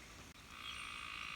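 Tree frogs near water in light rain give a steady, faint, high-pitched chorus of croaking outdoors in the countryside, continuous with no voices.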